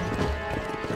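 Horse hooves clopping in the Red Dead Redemption video game, a steady rapid patter under a dense wash of game sound and music, with no talk.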